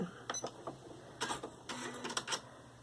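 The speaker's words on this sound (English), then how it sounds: "I'm going to cut my thread with a thread cutter" Elna 860 embroidery machine's built-in thread cutter snipping the thread: a few quiet mechanical clicks and whirring bursts from close by, with brief pauses between them and no talking.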